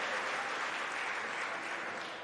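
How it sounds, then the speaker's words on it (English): Audience clapping steadily for sponsors at the Western Cape Prestige Agri Awards 2025 ceremony, a continuous even wash of many hands, fairly faint and distant. "give our sponsors a round of applause for making that possible"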